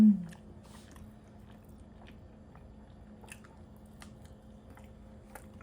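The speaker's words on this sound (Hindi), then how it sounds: "मैं एक और बाइट लूंगा।" Soft, squishy chewing of a cheese quesadilla made with ghee, quiet and close, with a faint hum and small mouth clicks and no talking.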